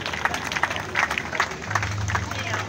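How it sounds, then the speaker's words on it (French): Mourners clap together in acclaim at a funeral gathering outside a morgue, a short run of uneven clapping mixed with crowd murmur, with a voice speaking over it. "j'aimerais qu'on acclame pour la présence de tous"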